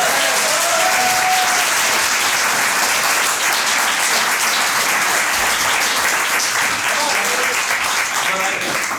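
Sustained audience applause at a French comedy show, dense and even clapping from a full room lasting several seconds, with a few faint voices and whoops mixed in.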